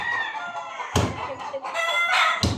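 Fighting cocks crow and cluck at close range, with sharp, overlapping calls and a couple of abrupt bursts across a few seconds.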